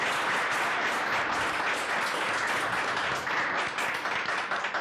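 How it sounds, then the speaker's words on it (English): A crowd at a fireside chat event claps in steady, dense applause that holds for several seconds without any voices on top. "let's have another round of applause"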